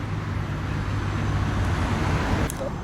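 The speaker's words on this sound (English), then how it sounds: "we're standing right next to a very busy main road" Steady roadside traffic roar from a very busy main road in Palma de Mallorca, continuous and close, with cars and heavier vehicles passing without pause.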